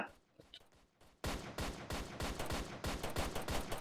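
Gunfire while shooting in Roblox Police Tycoon, a few scattered quiet pops at first, then a loud run of rapid, evenly spaced shots continuing to the end.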